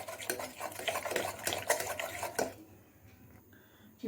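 Cooked dal being mashed and stirred in a pot for idli kuruma, with busy scraping and knocking of a utensil against the metal for a couple of seconds before it quiets to faint clinks.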